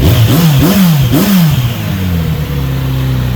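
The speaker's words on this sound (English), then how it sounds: "Let's listen to that exhaust." A 2020 Kawasaki Z900RS motorcycle's exhaust revs loudly up close, with two or three sharp throttle blips rising and falling, then settling into a steady idle rumble.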